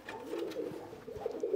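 Pigeons coo softly in a loft where birds are kept for tournament flying, low throaty murmurs repeating irregularly at a fairly faint level.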